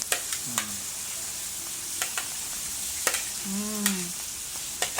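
Garlic and onions frying in a pan, a steady sizzle punctuated by sharp clinks and scrapes of a utensil against the pan, with a couple of brief squeaky tones.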